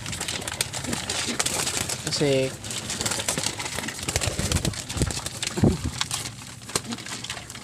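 Pigeons coo in a brief, close call rising from the mix, among outdoor bird sounds and rustling. Someone speaks over and around them.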